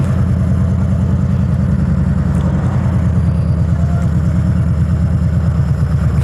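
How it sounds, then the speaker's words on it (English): Heavy London traffic heard from a motorbike, a loud steady low engine drone with a rumbling pulse throughout, nearby vehicles blending into a constant close roar, no voices. "so many vehicles, honestly. Driving around London is just a pain."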